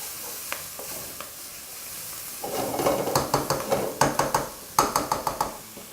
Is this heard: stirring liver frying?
yes